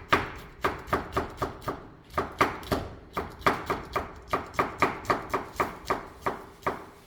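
Rapid knife chopping of red chili on a cutting board, a steady run of sharp, close taps with brief pauses, no talking.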